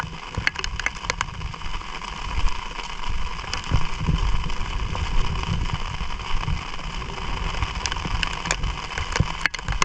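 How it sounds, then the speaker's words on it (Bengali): Sudden monsoon rain falls over the Sundarbans mangrove forest, a dense, steady patter of drops on surfaces with wind rumbling against the microphone and a faint engine hum beneath. "হঠাৎ করে বৃষ্টি নেমেছে সে কারণে সুন্দরবন বর্ষায় এরকমই হয় হঠাৎ বৃষ্টি তো হঠাৎ ঝড়"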